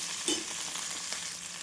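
Cumin seeds and tamarind fry in hot oil in a pan with fenugreek seeds and tomato for a chutney. A close, steady sizzle carries on throughout, with a faint stirring scrape near the start and no voices.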